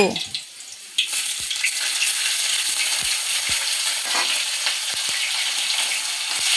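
Chepa, a fermented dried fish, fries in hot oil with a loud, crackling sizzle that jumps up after a quiet opening second, punctuated by scattered clicks of stirring; no speech.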